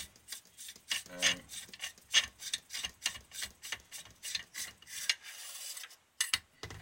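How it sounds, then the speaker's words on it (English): Air cylinder being unscrewed by hand from an Air Arms S200 air rifle: a steady run of rhythmic rasping, ratchet-like metal scrapes repeating about twice a second, close and fairly quiet, with no voices. "Right, the air cylinder should just unscrew."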